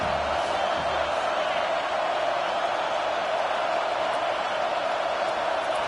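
Football stadium crowd roaring steadily behind the defense during a red-zone stand, a broad continuous wash of cheering and noise with no letup.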